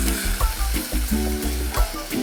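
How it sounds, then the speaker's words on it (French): White wine hits a hot pan of peppers to deglaze it, giving a loud, close, continuous sizzle and crackle with stirring scrapes in short repeated bursts. "je rajoute le vin blanc pour déglacer les sucres"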